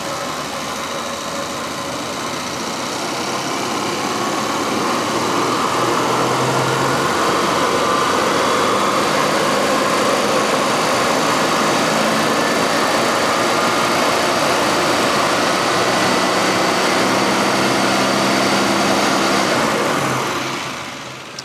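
A Triumph 2500TC engine idles steadily during carburettor tuning, a continuous close, loud running hum with a slight rise in level early on and fading near the end.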